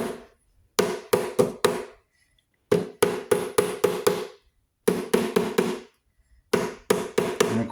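Firm tapping strikes come in four quick bursts of about five knocks each, separated by short pauses. The taps are close, crisp and fairly loud, with no talking, as a surface is checked during an inspection.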